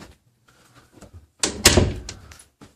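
An interior door being opened and closed during a home inspection: soft handling noises, then one sharp, close slam with a brief rattle and a couple of lighter knocks after it.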